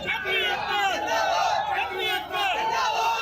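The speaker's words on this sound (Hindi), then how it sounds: "सड़क पर प्रदर्शनकारियों की भारी भीड़ जमा हो गई जो क्षत्रिय समुदाय की एकता के नारे लगाती रही" A dense street crowd of protesters chants slogans in unison for community unity, the massed voices loud and close, rising and falling in repeated surges throughout.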